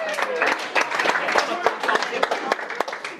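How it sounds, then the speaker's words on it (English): Guests applauding at a wedding, a steady patter of many hands clapping close by with talk mixed in, holding an even level throughout. "Round of applause,"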